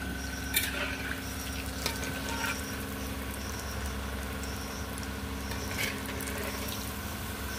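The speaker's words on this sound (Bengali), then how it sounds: "আর একটুখানি ভাজবো, একটুখানি ভেজে ধোকাটা তুলে দেবো।" Dhoka, Bengali lentil cakes, fry in hot oil with a steady close sizzle and bubbling, broken by a few sharper crackles and spatters as they cook.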